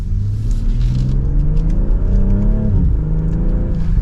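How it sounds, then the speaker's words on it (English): A BMW X3 M50 or M40i engine revs up loudly in sport mode, close by and steady, with a rising then dipping drone as paddle-shifted gears change through the run. "RPMs will jump a little higher with it in sport mode here."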